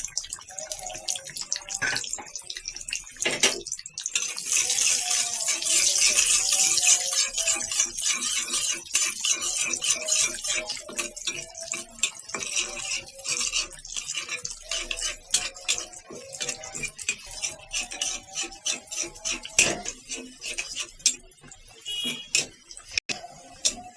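Garlic sizzles and crackles in hot oil as it fries for a tempering over a raw jackfruit and chicken curry, a busy, steady hiss with dense popping and occasional clinks, close and loud without talk.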